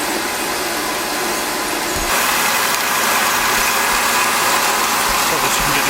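An old used 12x7 bandsaw runs with a steady broadband whine and hiss that grows louder and brighter partway through, as the blade cuts into the workpiece close by.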